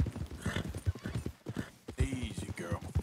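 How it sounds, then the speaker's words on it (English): Horse hooves clip-clopping on a path in Red Dead Redemption 2, a steady rhythmic trot of light thuds with game ambience, while someone talks over it throughout. "This horse is so slow."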